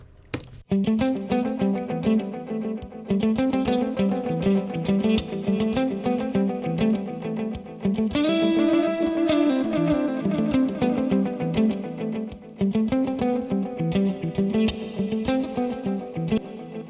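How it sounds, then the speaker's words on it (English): A second electric guitar part plays continuously in a studio through a Boss RE-202 delay and reverb pedal, repeated picked notes trailing into echoes and a wash of reverb, with a brief pause near the end. "let's bring in the RE-202"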